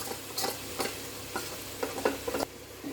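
Tomatoes with chicken masala, garam masala and chilli powder sizzle and fry in a pan for a soya chunk biryani, with a steady hiss and repeated close scraping stirs of a spoon against the pan.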